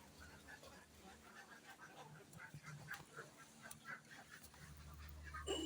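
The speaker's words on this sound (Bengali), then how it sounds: "এই যে আমার হাঁসে দেখেন" Ducks quack and call in a cluster, faint and somewhat distant, with soft background noise and a low hum.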